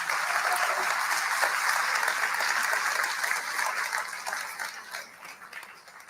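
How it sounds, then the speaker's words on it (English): A town hall audience in Alberta claps in a loud, dense round of applause that holds steady, then thins and fades over the last couple of seconds. "So another round of applause for these wonderful men."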